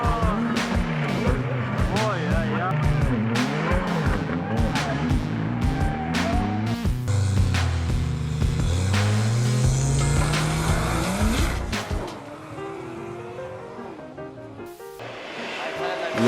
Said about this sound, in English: This crazy car racer is driving through the mud.